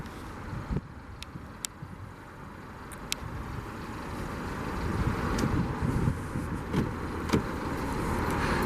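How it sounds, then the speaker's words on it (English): A 2015 Mercedes-Benz C300 Sport 4Matic driver's side power window motors closed with a steady low whir, accompanied by faint clicks and soft ambient noise. "Bring the automatic driver's side window back up"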